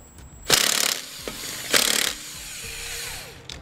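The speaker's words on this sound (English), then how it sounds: "Now I'm gonna be using a 15 millimeter socket to remove these." A 15 mm socket on a power tool removes lug nuts from the lug studs of a 2013 Smart fortwo wheel, in two loud, rattling bursts of about half a second each, with a shorter burst near the end.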